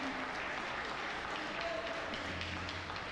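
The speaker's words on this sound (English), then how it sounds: "A round of applause for M," Audience applause for the champion of a regional art competition finals, a steady dense wash of many hands clapping throughout, moderately distant and continuous.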